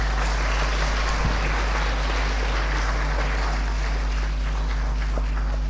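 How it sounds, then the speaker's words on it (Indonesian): Junior high school students at SMP Negeri 1 clap together in a crowd, a dense, steady wash of applause holding at an even level for several seconds over a low electrical hum. "Tepuk tangan sekali lagi."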